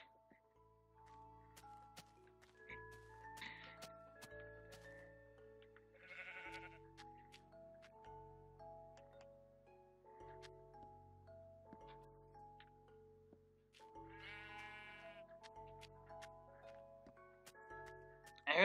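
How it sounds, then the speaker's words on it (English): Sheep bleating in a Minecraft skyblock animal farm, several short game bleats rising over a steady backdrop of game music, with soft ticking clicks between them. "Oh, just the sheep."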